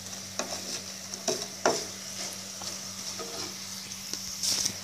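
French fries frying in a pan and being stirred, a steady low sizzle with a hum underneath and repeated scraping and clacking strokes of the utensil, close and clear, with no voices.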